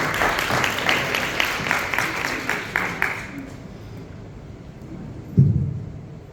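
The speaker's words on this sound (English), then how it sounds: "can we give her a round of applause" Applause for a speaker at a book launch fills the room with steady, fairly loud clapping for about three seconds, then fades into quiet murmur and a single thump.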